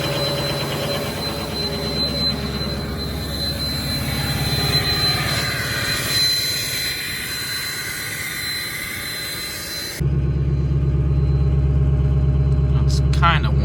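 A Ford 6.0 Powerstroke diesel engine runs at high idle on a cold first start of the year, a loud, sustained rumbling drone that changes character abruptly near the end.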